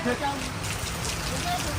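Rain patters steadily around an outdoor bonsai market during a downpour, a continuous wash of drops under nearby voices talking in Vietnamese.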